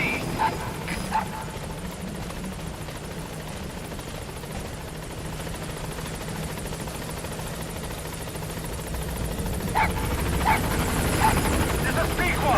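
Pequod helicopter from Metal Gear Solid V approaching a landing zone, a steady rotor drone filling the whole clip with in-game voices over it.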